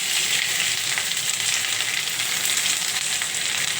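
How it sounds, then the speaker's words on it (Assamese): Dried chilies and curry-type leaves frying in oil over a lowered flame, a loud, close, continuous hissing sizzle that holds steady throughout, with faint stirring and no talk. "শুকান জলকীয়া দিছোঁ, চিমটো কমাই লৈছোঁ। তাৰপিছতে দি দিছোঁ পাতখিনি,"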